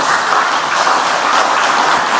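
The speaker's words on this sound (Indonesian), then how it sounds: "tepuk tangannya aja nggak meriah" Audience applause following a political speech, a short burst of many hands clapping in a dense, steady patter with no voices over it.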